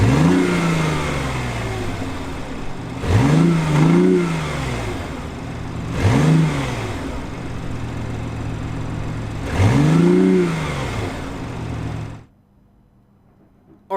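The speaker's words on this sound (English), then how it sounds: "But let's start this engine because I want you to hear it." A 2016 BMW i8 engine revs repeatedly at close range, rising and falling in four distinct swells over a steady idle, then cuts off into near silence.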